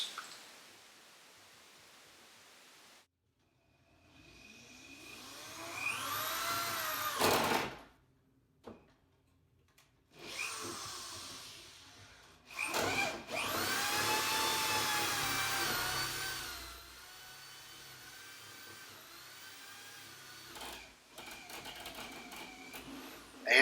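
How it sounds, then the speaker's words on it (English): A power drill with a 4-foot bit bores through a house floor down into the basement, running in loud whirring bursts that rise and fall in pitch, broken by short pauses and handling clunks. "This 4-foot drill bit should get us through no problem, down through into the basement"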